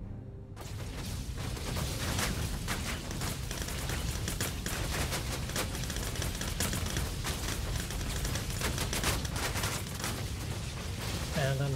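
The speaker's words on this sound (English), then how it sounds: "Warden strafing the shit out of us." Sustained strafing gunfire from an enemy Warden ship in a space combat game, a dense, relentless stream of rapid shots and impacts that roars loudly and evenly for the whole stretch.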